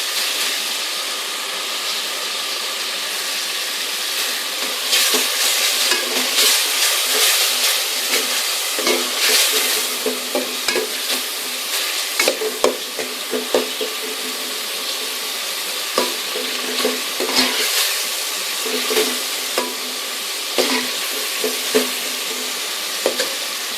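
Garlic and ginger fry in a pan for a taro and meat curry, giving a loud, continuous close sizzle and hiss that is repeatedly broken by scraping stirring strokes, with no talking.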